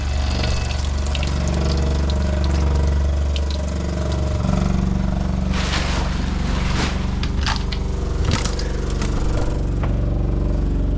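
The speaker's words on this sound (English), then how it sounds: "this is the circuit that has the water pump on it" An electric water pump in the plumbing of a vintage Avion trailer drones steadily and close, a low mechanical hum with water and air gurgling through the lines, plus a few sharp clicks and knocks near the end.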